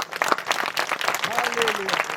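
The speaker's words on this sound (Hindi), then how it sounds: "सब प्रभु महिमा तालियां देंगे" A church convention congregation in Balrampur, Chhattisgarh, claps in uneven bursts, fairly close and moderately loud, with a voice rising briefly beneath the clapping toward the end.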